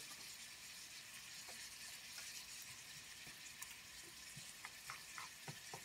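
Minced garlic frying in sesame oil in a pan, a steady close sizzle with light crackles and occasional soft pops throughout, no voices.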